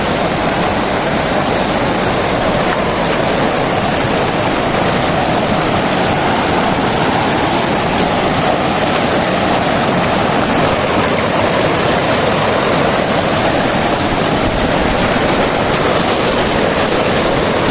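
A stream in the Kolli Hills rushes with a strong flow, a loud, dense and unbroken roar of water filling the whole stretch, with no voices.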